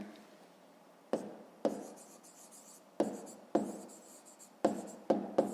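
Pen writing down an answer by hand on paper in a fifth-grade maths exercise, with repeated scratchy strokes in short bursts, each starting sharply and fading, close and fairly quiet.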